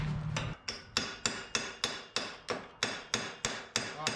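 Steel hammer repeatedly whacking a freshly welded exhaust repair on a 1981 minitruck, about a dozen sharp, evenly spaced metallic strikes, close and loud, with no talking.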